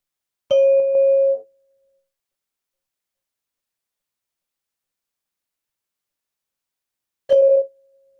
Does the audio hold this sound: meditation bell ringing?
yes